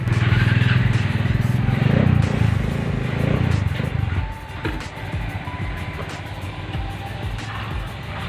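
Motorcycles and other road traffic passing nearby, a loud engine roar in the first few seconds easing into a steadier, softer motor hum.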